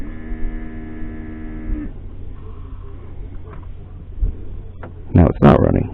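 A Mercedes-Benz W463 G-Wagon multicontour seat air pump motor hums steadily for about two seconds, then cuts out. Quieter cabin noise follows, with a few louder knocks near the end.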